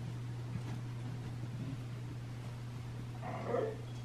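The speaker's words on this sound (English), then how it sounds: "the dogs start letting you know that they think it's dinner time" Dogs at home give a few short, faint barks and yips, ending in a louder burst near the close, over a steady low hum indoors.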